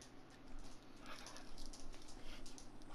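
Dog whimpering in the fighting video game Injustice 2, short soft whines and panting sounds repeated over a dense layer of game noise.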